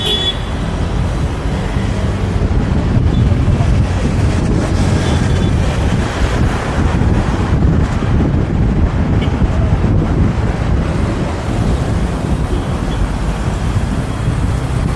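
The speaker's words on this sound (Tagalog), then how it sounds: "malamig ang hangin" Wind batters the microphone during an outdoor boat ride, a loud, continuous buffeting roar over the low rumble of the boat and the sea, with no voices.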